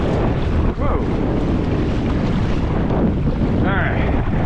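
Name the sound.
wind and waves while paddling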